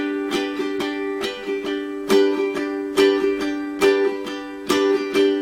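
Ukulele strummed in a church lick pattern of two down strokes and one up, the downs sometimes catching only the bass strings. Bright, repeating chords with a steady, bouncy rhythm, close and alone.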